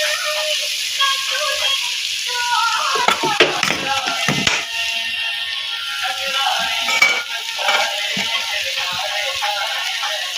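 Biryani being mixed in a pot: a steady soft sizzle and rustle with scraping, clinking strokes of a spoon against the metal, clustered in bursts, close and moderately loud.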